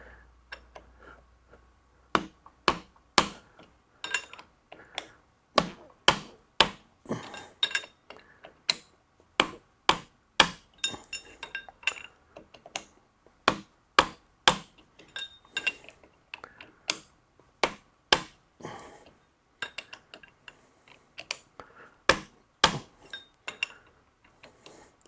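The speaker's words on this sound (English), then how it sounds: "now I'm gonna get my mallet here, and we're just going to" Sharp mallet taps used to tighten something up, struck in an irregular series of dozens of crisp, close knocks across the whole stretch, some in quick pairs and runs, with no talking.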